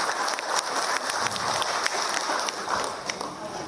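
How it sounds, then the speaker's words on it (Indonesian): A crowd at a political declaration event in Indonesia breaks into applause, with sharp scattered claps over a busy crowd noise and some voices mixed in. "Boleh tepuk tangan."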